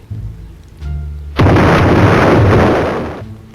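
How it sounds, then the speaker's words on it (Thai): A loud, roaring explosion blows open a safe in a mansion in the Roblox game Brookhaven. It erupts abruptly after a quieter stretch, holds a dense rumble for nearly two seconds, then fades. "แล้วก็ให้เขาระเบิดกันเลยนะครับ อ่าระเบิดได้เลย"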